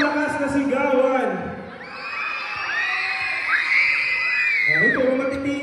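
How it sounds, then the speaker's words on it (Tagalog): Primary school students at a school foundation week event shout together in a loud, shrill crowd roar that rises, dips briefly and swells again, with some voices speaking amid it. "Ito, matitinis. Puro primary lang yung sumisigaw."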